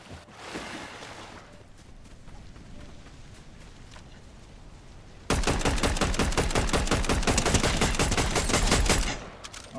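A Fortnite battle royale match: scattered gunfire and distant rumble give way to a loud, rapid burst of shots lasting several seconds, then it cuts off.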